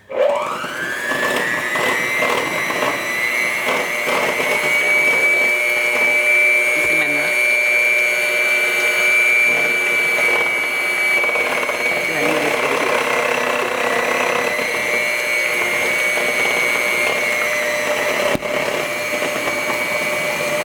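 Electric mixer blending keto vegan pineapple upside-down cake batter, a steady loud whirring motor hum held for about twenty seconds with slight shifts in pitch as the beaters work through the batter.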